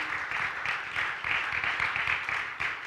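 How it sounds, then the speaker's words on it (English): A crowd at a live podcast recording in Akron, Ohio applauds, a steady wash of clapping heard at a moderate distance, fairly soft, with no talk over it. "Give yourself a round of applause for being here"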